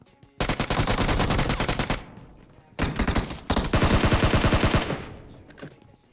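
Automatic gunfire rattles out in PUBG Mobile, two long dense bursts of rapid close shots separated by a brief gap, loud and dominating with no talk.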